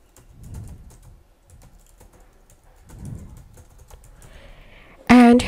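A new webhook name is typed on a computer keyboard in quick, light, close key taps over a quiet background, ending in a sudden louder burst of sound.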